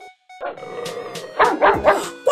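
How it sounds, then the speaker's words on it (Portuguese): A toy dog gives several short electronic barks in quick succession, fairly close and clear, with a brief gap before the barking starts. "Qual o sonzinho de um cachorro, Felipe?"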